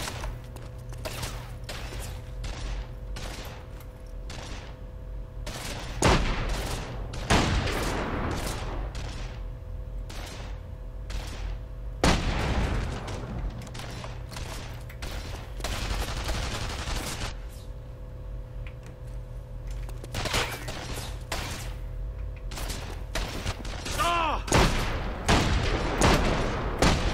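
Rapid gunfire from a shotgun and a sniper rifle in a video game, with sharp repeated shots in bursts and clusters over a steady background hum.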